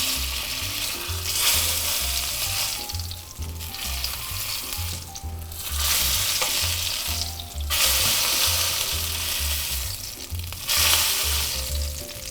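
Short ribs searing in a hot pan, fat sizzling loudly and continuously with surges of brighter hiss as pieces are laid down, close up with no talk.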